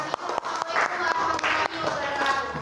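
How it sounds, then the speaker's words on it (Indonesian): Classroom applause for a student group as pupils clap together, an uneven patter of hands mixed with voices and chatter around the room, steady and fairly loud throughout. "silahkan duduk dan beri tepuk tangan untuk kelompoknya Aldafa"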